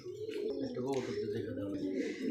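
A fancy pigeon calling with low, repeated throaty coos close by, while someone talks over it.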